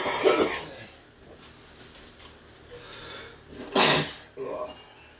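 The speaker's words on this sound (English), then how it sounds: "when I smoke, sometimes I sneeze" A sharp, explosive sneeze while smoking bursts out near the end, followed by a smaller snort, with some breathy throat noises at the start.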